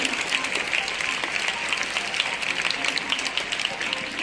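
Audience applause at a mathematics ashtavadhanam performance as a professor is invited to the dais: continuous, even clapping from a sizable crowd, fairly loud and close, with faint voices mixed underneath.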